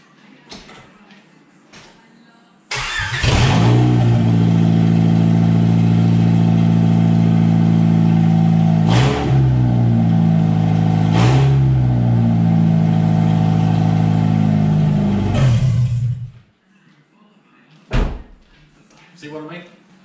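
A very loud, raspy straight-piped Honda Prelude engine roars nonstop for about thirteen seconds with a few sharp revs, then cuts off, leaving quiet with a couple of thumps.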